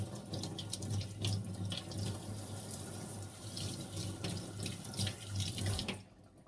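Tap water runs steadily into a sink while parts of a jar and its screw fittings are rinsed clean, with a continuous splashing rush and small clinks, close and alone until the flow stops near the end.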